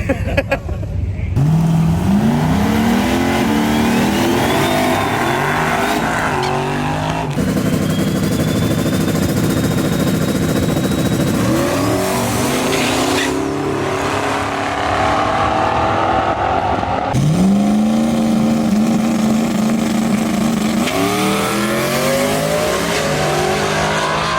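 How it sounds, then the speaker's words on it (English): A 1300+ hp Ford Mustang race car engine revs and accelerates hard through a series of gear changes, with loud rising engine pitch that drops and climbs again, close and dominant throughout. "That's a little race car."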